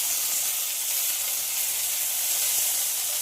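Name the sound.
frying potatoes and jackfruit seeds with greens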